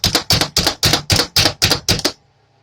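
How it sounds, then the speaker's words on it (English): Knife chopping turkey sausage on a cutting board for Cajun macaroni and cheese, eight quick, evenly spaced sharp chops, close and loud, with no talking. "round it up, and you're gonna chop it up"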